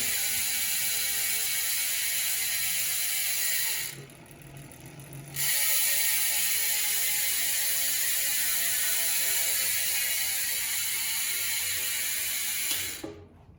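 A rapid, steady buzzing ratchet of a freewheeling 108-engagement-point rear hub on a 2021 Trek Farley 5 bicycle, loud and close, pausing briefly partway through, then whirring on at an even pace.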